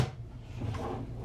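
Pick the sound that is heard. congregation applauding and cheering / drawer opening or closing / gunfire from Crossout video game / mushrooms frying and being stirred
drawer opening or closing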